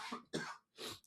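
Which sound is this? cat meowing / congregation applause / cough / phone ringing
cough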